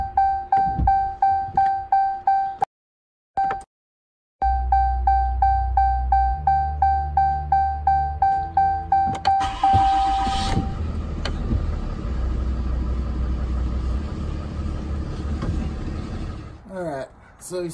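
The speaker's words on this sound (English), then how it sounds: "turn the truck on, make sure we don't have any issues" A 2017 Ram pickup's 6.7 Cummins diesel engine idles steadily close by after a fuel filter change, with a repeating chime ticking over it at first, then the engine note roughens and rises before settling.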